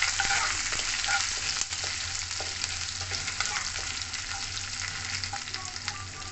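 Ginger and curry leaves sizzle loudly while being stir-fried in a pan, a steady hissing fry with scraping stirs throughout, close and continuous with no talking.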